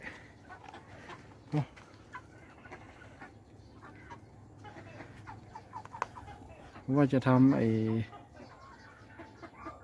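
Black naked-neck chickens cluck quietly around a farm yard, with a single short squawk early and a louder burst of clucking calls later, while a person talks intermittently nearby.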